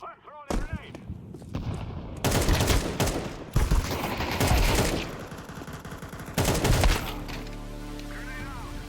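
Dense gunfire and a grenade blast boom and crackle in a Counter-Strike match, loud and close in overlapping bursts for several seconds, then fade into a quieter electronic tone.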